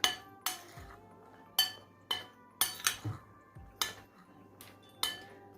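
Sharp metal-on-bowl clinks and scrapes at an irregular rhythm, about nine distinct strikes, as flour and other ingredients for a Lenten gata filling are mixed in a bowl; close and alone.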